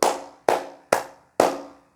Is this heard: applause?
yes